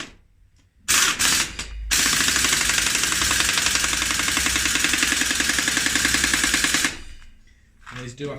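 A power gun hammers steadily while tightening a bicycle bottom bracket, a loud rapid rattling burst lasting about five seconds after a short initial blip, then stopping.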